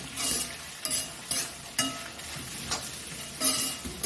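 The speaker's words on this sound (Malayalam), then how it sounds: "ആദ്യം നമുക്ക് സവോള ഒന്ന് വരച്ചെടുക്കാം ഇനിയുണ്ടല്ലോ ഈ ഇതെല്ലാം കിടന്ന് നന്നായിട്ട് വരണ്ടെടുക്കണം" Onions frying in a pan as the first step of a clam meat fry, a steady sizzle broken by a few clinks and scrapes of stirring, close and moderately loud with no talk.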